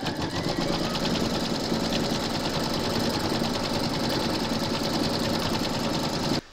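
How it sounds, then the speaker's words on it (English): An embroidery machine stitches applique fabric in a hoop, running as a steady fast mechanical whirr with a rapid regular needle rhythm, close and continuous until it stops abruptly at the end. "Pop your hoop into your machine and stitch round number 4 to secure them."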